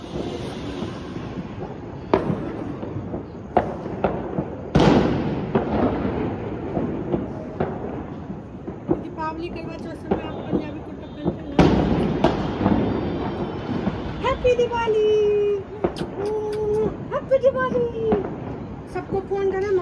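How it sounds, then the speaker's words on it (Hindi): Fireworks and firecrackers burst repeatedly during Diwali celebrations around a residential society in Ayodhya, with sharp cracks, booming thuds and whistling rockets at varying distances, plus wind noise and voices in the background. "केजरीवाल ने जितना बैन किया हुआ है पटाखों का कोई असर है नहीं, लोग चला तो रहे हैं"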